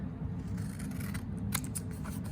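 Scissors snip away excess material from a thin collagraph printing plate, with several crisp close cuts and a steady rustling underneath, no voices.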